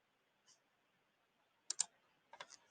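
A few light clicks on a computer keyboard, close and quiet, a single tap followed by a quick pair and a short cluster of keystrokes in an otherwise silent room.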